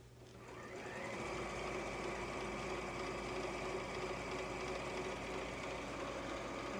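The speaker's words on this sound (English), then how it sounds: "And just sew down the two seams that you will have already sewn." A sewing machine stitching down pillowcase seams runs at a steady, continuous whir after a brief start, close and even throughout with no speech.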